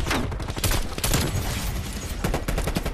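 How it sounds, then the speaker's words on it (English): Rapid gunfire in the video game Call of Duty: Cold War, dense overlapping bursts of shots and booms filling the whole stretch, loud and close with no talking. "that was a teammate just shooting at me for some odd reason"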